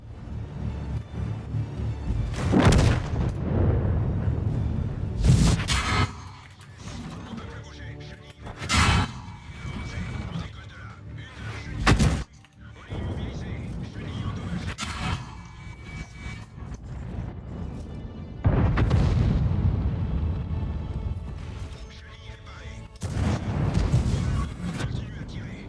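Tank cannon shots in World of Tanks, several heavy booming blasts spaced a few seconds apart over a rumbling engine bed, with a voice talking between and over the shots.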